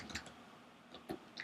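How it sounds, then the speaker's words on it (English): Quiet keystrokes on a computer keyboard come as a few sparse, soft clicks, close and faint with short gaps between taps. "And we're first of all typing in function"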